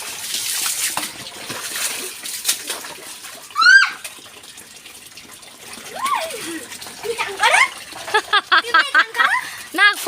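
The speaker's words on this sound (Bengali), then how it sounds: "একটা গামলায় নিজে তো বসে পড়েছে আর একটা গামলায় জল ভর্তি দেখো ওর খালি খেলাটা" A child splashes and plays in a water-filled basin at home, with bursts of splashing and sloshing that come and go, mixed with childish vocal sounds and voices nearby.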